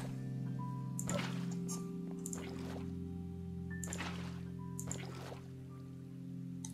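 Minecraft 1.12 water splashing and trickling as blocks are placed and filled while building a sugar cane farm, several soft watery bursts over a steady background hum of game music.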